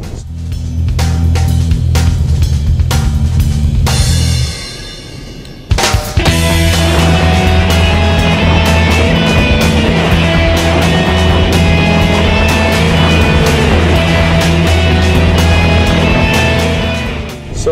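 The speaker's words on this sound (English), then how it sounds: "so just powering the vehicle through the turn" A 2013 Ford Escape AWD drives through a cone course in winter with its engine droning loudly and steadily. A brief drop midway gives way to a renewed revving pull as it powers through the turn.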